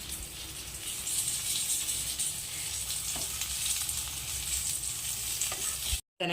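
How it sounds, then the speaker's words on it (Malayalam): Masala-coated brinjal frying in a pan and being turned over, a steady bright sizzle with occasional soft utensil clicks, no talking, ending in a brief dropout. "ഇനി അത് നമുക്ക് തിരിച്ചും മറിച്ചും ഇട്ട് കൊടുത്തിട്ട് ഒന്ന് നന്നായിട്ടൊന്ന് ഫ്രൈ ചെയ്തെടുക്കാം"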